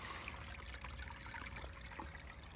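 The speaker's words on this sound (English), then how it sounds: "I've got the little waterfall running at the moment." A small garden pond waterfall, built from an old bathtub, trickles steadily outdoors in summer, a soft continuous babble heard faintly from nearby.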